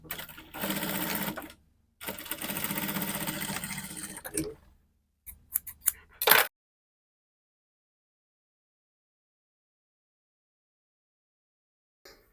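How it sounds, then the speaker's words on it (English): A sewing machine stitches a jumpsuit inseam in two steady runs close by, followed by a few short bursts and clicks, then silence. "go back to the sewing machine and join the inseam area together with 1/2 inch allowance"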